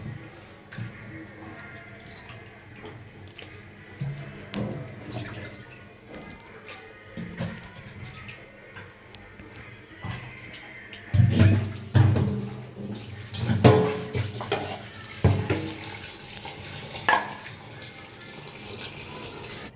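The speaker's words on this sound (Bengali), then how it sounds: "এটার সুন্দর করে এখন ফ্রেশ করে আমরা ধুয়ে নেবো" Duck meat being rinsed by hand under running tap water in a sink, a steady trickle with splashes and handling that grow louder and busier toward the end.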